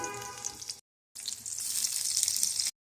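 Chopped onion and chilli hit hot oil in a pan and sizzle, a bright hissing crackle that stops briefly and then returns, louder and steady, close by.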